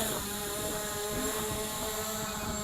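An SJRC F11 Pro folding brushless camera drone taking off automatically: a steady, high-pitched whine from its motors, with a buzzing, tonal hum that holds constant at moderate distance, no talk.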